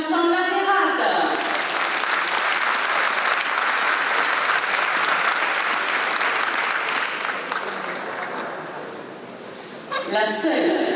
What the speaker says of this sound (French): Applaudissements pour Vincent Laterade.